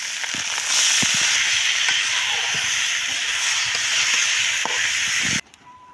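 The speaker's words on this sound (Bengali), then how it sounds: "এখন আমি চাউল ভাজা নিব।" Rice frying in oil in a wok for beef biriyani, a loud steady hissing sizzle with scattered pops and scraping ticks close by, ending abruptly near the end.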